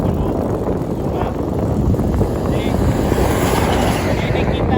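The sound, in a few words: wind while cycling to Badr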